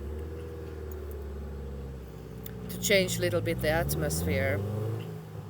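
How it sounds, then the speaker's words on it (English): A steady low engine rumble from cars starting and passing nearby runs throughout, with a person talking over it in the second half. "Sorry about the background noise. There's some cars"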